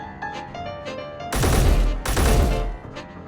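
Rifle fire in Space Engineers comes in two loud, rapid bursts of shots close at hand, separated by a short gap and framed by quieter electronic game tones before and after.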